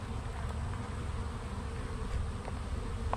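A swarm of honeybees buzzing inside an active hive, a dense continuous low drone with a few faint individual bees flicking past close by, and no talking.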